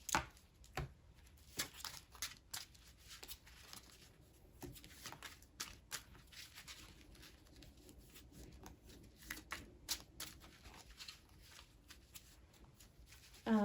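Pokémon trading cards being shuffled by hand, a series of quick riffling and tapping bursts at close range, fairly quiet and irregular in rhythm.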